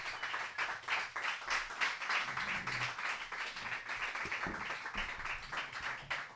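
An audience claps and applauds to welcome guests onto an evening show, a steady patter of many hands at moderate volume that holds throughout.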